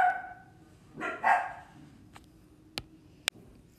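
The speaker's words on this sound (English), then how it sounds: "sorry my dog started going crazy there" A dog barks indoors with a short burst of two or three loud, close barks, then falls quiet apart from a couple of faint clicks.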